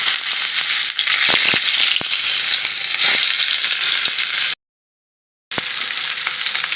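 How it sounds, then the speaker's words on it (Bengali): Fish rubbed with turmeric and salt fries in hot oil, a loud, steady sizzle with a few sharp spits and pops. It cuts out for about a second, then picks up again, with no talking. "আমি এখন মাছগুলো একে একে ভেজে নিব"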